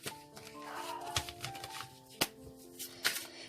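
Tarot cards are being shuffled in a quiet room, giving a series of soft riffling slaps and clicks in uneven bursts, with a faint steady tone running underneath.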